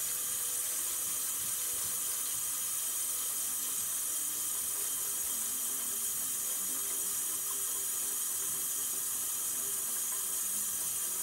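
Tap water running steadily into a container, filled nearly to the top for a RIT dye bath to dye canvas pillowcase covers and banners; a soft, constant hiss of flow at moderate distance with no talking.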